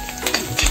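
Spice powders (masala, pepper and turmeric) and grated coconut being stirred and roasted in a pan, with a brief scrape of a spoon and soft sizzling close by.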